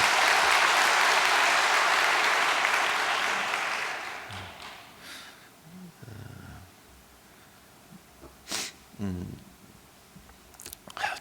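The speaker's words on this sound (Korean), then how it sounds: "참 다시 한번 감사의 박수를 부탁드리겠습니다." A church congregation claps in thanks, a loud burst of applause for about four seconds that tapers off, followed by a quiet room with a few brief noises.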